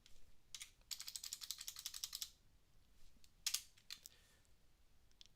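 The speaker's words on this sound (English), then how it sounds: "I'm typing away here" Someone types on a computer keyboard in rapid, even bursts of clicking, close and clear, with pauses between runs of keystrokes and no talk.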